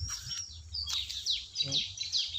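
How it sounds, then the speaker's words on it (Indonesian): Birds sing in an oil palm plantation, a run of high, clear chirps and down-sweeping whistles repeating every half second or so, fairly close over a low background hum. "Cuma dengar suara burung baik dari tadi."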